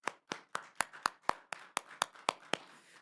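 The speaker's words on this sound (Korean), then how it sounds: "우리 하나님께 영광의 박수를 드리겠습니다." A congregation claps in a steady, evenly spaced rhythm of about eleven sharp claps, fairly quiet and with no talking.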